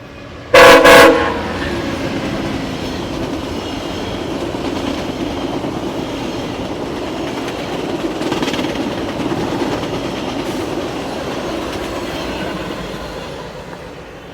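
A VIA passenger train on a detour passes along the CN Halton Subdivision, opening with a short loud horn blast, then a steady rumble of wheels and cars rolling by for the rest of the pass.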